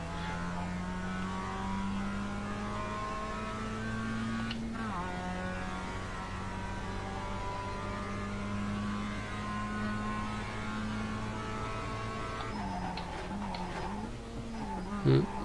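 A Mazda MX-5 race car engine in the sim racing game iRacing holds a steady, buzzing drone with brief dips at gear changes, then revs up and down near the end, close and constant.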